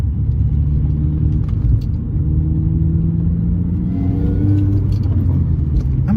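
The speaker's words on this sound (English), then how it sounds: "my car's loud" Loud R53 Mini Cooper S driving along a residential street, a steady low engine rumble and road roar with slight shifts in pitch as it moves, holding close and continuous throughout.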